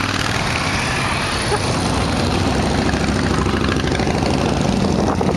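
Motorcycle engines drone and rumble loudly close by as they pass a cyclist on a tour route, a continuous low throbbing, with someone talking over it.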